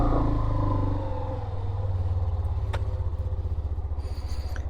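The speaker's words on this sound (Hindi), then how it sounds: "तो भाई अभी बाइक स्टार्ट हो गई है एक सेल्फ में।" A Hero Xtreme 125R motorcycle idles just after an electric self-start, its engine settling into a steady, close, evenly pulsing putter with a brief sharp click partway through.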